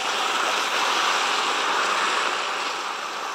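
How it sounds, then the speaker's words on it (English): Sweet cider is poured into hot caramel to make a cider caramel for an apple pie, producing a loud, steady hissing sizzle that holds evenly for a few seconds, close up with no talk. "add the cider to that"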